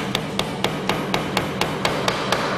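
Steady hammer blows drive nails into wooden slats of a planter at an even pace, about ten sharp knocks in quick succession, close and clear over a faint background hum.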